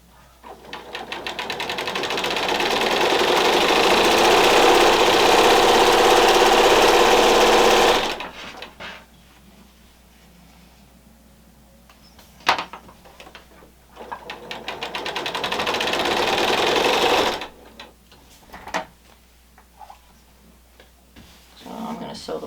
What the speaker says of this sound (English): I'm going to stitch both of these on the sides, and then I'll finish the top and bottom.